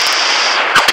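A guard's gun firing in a video game heist, a dense loud burst of rapid automatic fire running almost continuously, followed by two short separate shots at the end.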